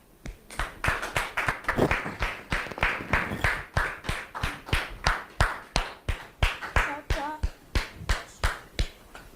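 Steady rhythmic clapping from a group, crisp evenly spaced claps continuing throughout at a lively, unbroken pace.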